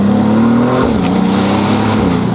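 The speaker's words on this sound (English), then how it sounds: "That pop on that shift is so dramatic." A loud 2025 Maserati GranCabrio Trofeo engine revving hard, a brief dip and sharp crackle from the exhaust as it shifts gear, then pulling on.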